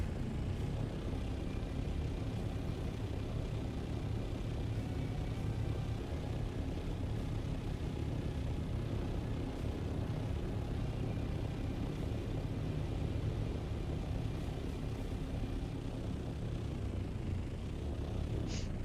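An aircraft flies past in Dune: Awakening, a steady, loud engine rumble and drone that holds at a constant level for the whole stretch with no voices over it.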